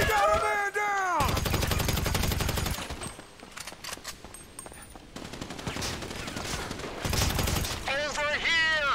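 Sustained bursts of automatic gunfire in GTA 5, loud and dense, come in two heavy stretches with lighter shooting between them, while shouting voices are heard at the start and end.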